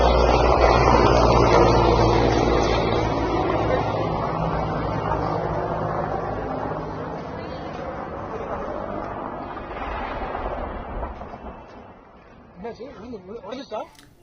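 A helicopter's engine and main rotor drone steadily and loud, then gradually fade, followed near the end by a short burst of irregular rhythmic clattering as the rotor blades strike something and break.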